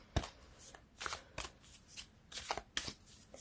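A tarot deck is shuffled by hand in several quick riffling bursts, each a soft papery flutter followed by a brief pause, close and fairly quiet with no talking.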